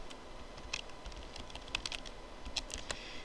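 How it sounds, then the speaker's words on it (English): Rapid, irregular keystrokes on a computer keyboard while a software name is typed into a browser search box, the clicks sharp and close over a steady low background hum. "we're just going to type in Zoiper."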